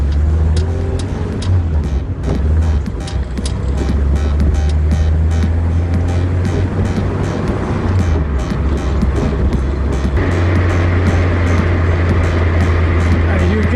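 A 1968 BMW 2002 drives along with a steady low engine drone and broad road and wind rush, and the engine note shifts partway through.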